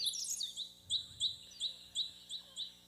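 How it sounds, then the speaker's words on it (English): Birds chirp outdoors near a back porch: a rapid flurry of high tweets, then a steady series of short, evenly spaced calls at moderate distance, with faint low background sound underneath. "sitting out on the back porch listening to the birds"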